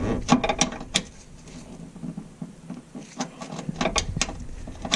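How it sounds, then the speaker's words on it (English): Metal ratcheting and clicking as a 13mm tube wrench works a brake hose fitting on a 2007 Ford Escape, a run of sharp close clicks in short irregular bursts over a low background. "get the 13mm tube wrench up here on the upper side."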